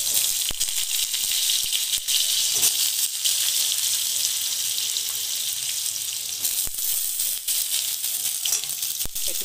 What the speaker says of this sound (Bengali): এর মধ্যে আমরা দিয়ে দেবো আলুটা দিয়ে ভেজে নেব